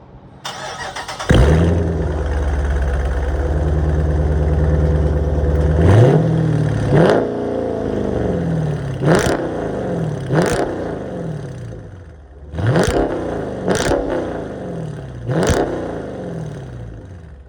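A Dodge Charger Hemi V8 cranks and roars to life, settles into a loud rumbling idle, then gets blipped in a series of sharp revs.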